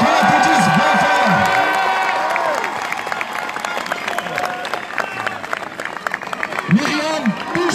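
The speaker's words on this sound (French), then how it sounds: "Qu'on l'applaudisse bien fort." Crowd at an outdoor rally against Islamophobia at Place de la Nation, sustained applause and cheering with shouts and whistles, loud and continuous, with a voice over it.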